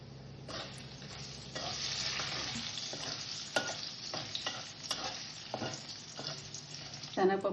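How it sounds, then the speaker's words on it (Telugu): Fenugreek seeds with chana dal and urad dal sizzle in hot oil for a pachadi, a continuous close frying hiss punctuated by frequent stirring scrapes and small pops. "నూనె వేసుకుని వేయించుకుందాం. మెంతులు కూడా వేయించుకుందాం."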